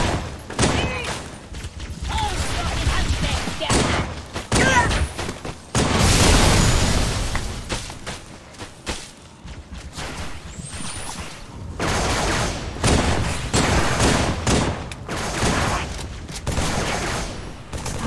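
Heavy gunfire from a Halo 3 firefight in the Sierra 117 mission, with sustained bursts and a loud boom or blast near the middle, continuing in dense volleys throughout with faint voices underneath.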